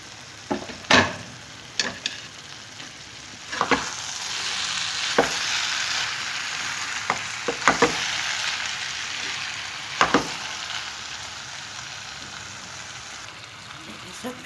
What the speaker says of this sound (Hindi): अब मैं इस वक्त ये मिक्स सब्ज़ी जो है, जो फ्राई करके रखा था, वो डालूँगी।